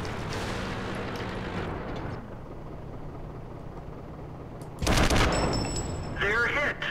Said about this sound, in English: taking fire from the rear, maybe, or left flank. That could be artillery fire.